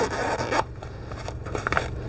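Zipper on a compartment of a tactical quick-release tool belt being pulled open and shut, close, scratchy rasping strokes in a couple of quick bursts.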